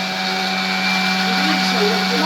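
A mixer grinder grinding food fine makes a steady, loud motor whine with a constant electric hum, running unchanged throughout at close range.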